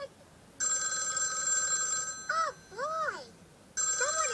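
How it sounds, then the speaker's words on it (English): A telephone ringtone, part of a children's show end-credits scene, plays in steady electronic bursts, broken by short rising-and-falling musical tones before ringing again, loud and clear with no talk over it. "Someone is calling Elmo."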